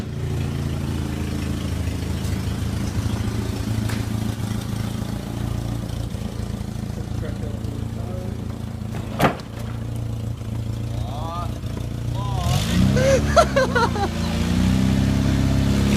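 A Suzuki Vitara with a slipping clutch running steadily at idle, its engine hum rising as the car drives out, with a brief knock midway.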